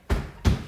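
Two heavy low thumps of foot stomping, each followed by a clap, mark a steady strong–weak beat during an elementary music lesson on a song, close and clear with no talking.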